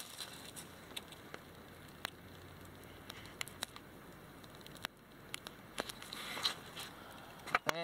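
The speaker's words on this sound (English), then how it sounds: "And it's starting to rain on me out here, too. Sprinkling, just sprinkling." Light rain sprinkles in the woods during a spring morel hunt, a faint scattered patter of drops ticking on leaves, sparse at first and thickening slightly later.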